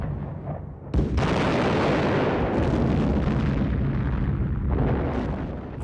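Heavy artillery fire in the style of a Great War artillery duel erupts with a sudden close boom, then rolls on as a long, loud, dense barrage of blasts and rumble that surges again near the end.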